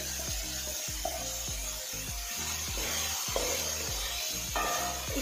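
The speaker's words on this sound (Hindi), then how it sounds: "इसको आपने 2 से 3 मिनट इस चिकन के साथ फ्राई करना है।" Chicken, bell pepper cubes and half a cabbage sizzling and frying in a pan, with steady hiss and repeated scraping strokes of a spatula stirring the pieces at a regular rhythm, close and moderately loud.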